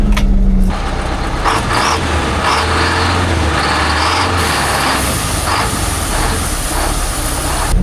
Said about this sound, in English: What a smooth engine this is.